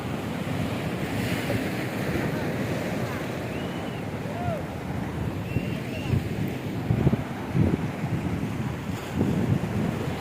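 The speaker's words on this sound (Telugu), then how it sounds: "అలలు కెరటాల్లో ఎగేసుకుంటూ వస్తున్నాయి" Waves roll in onto a rocky beach on the Karnataka coast, a steady roar of surf close by with wind noise and a few louder breaking swells toward the end.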